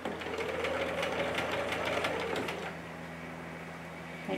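A sewing machine stitches a quilt-as-you-go tote bag with a fast, even mechanical whir and rapid needle clatter for about two and a half seconds, then slows to a softer idle hum.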